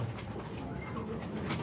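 Pigeons coo softly in a loft, a low murmuring burble that runs continuously through a brief stretch without speech.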